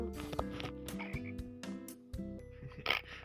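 Repeated electronic frog croaks from a Minecraft-style block game over a steady synthetic game-music background, with several sharp blips scattered throughout.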